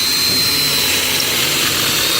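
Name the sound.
drilling a hole for a brass threaded insert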